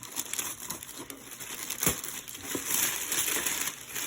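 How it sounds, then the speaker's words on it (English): Tissue paper is pulled away from a Yardman shoe inside its box, giving soft, close crinkling and rustling across the whole stretch, with a brief louder crackle near the middle. "we're going to begin to take the tissue paper off the shoe"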